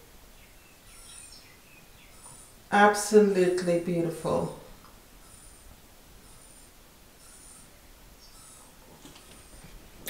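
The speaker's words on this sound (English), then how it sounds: "I can hear the birds calling me outside." Faint, high bird chirps repeat throughout in the background, while a person speaks briefly partway through.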